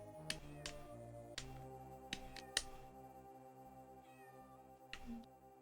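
Cat meows and caterwauls from an Amiga video game, several distinct cries over a steady electronic game soundtrack with sharp clicky hits scattered throughout.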